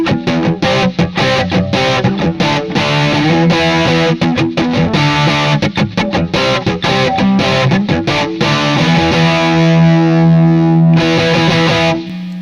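Distorted Telecaster electric guitar playing chords and riffs through a PedalPCB ADHD V2 effects pedal, loud and continuous with a crunchy, saturated tone and short pauses between strums.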